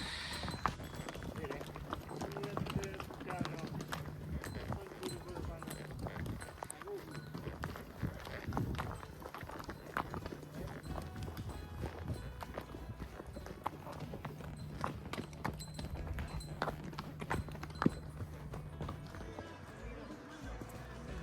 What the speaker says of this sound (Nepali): अब हामी चाहिँ यहाँ सिमलामा हर्स राइड